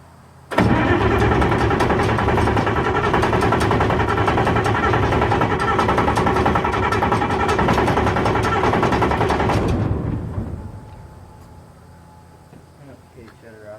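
A Massey Ferguson 760 combine engine runs loud and steady at close range for several seconds, then cuts off abruptly, leaving a quiet hum with a voice speaking faintly afterward.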